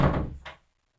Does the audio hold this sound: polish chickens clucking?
no